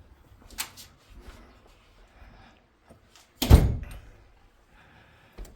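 A villa's insect screen door is handled nearby: a few soft rattles and taps, then one loud thunk as it shuts, and a final light knock.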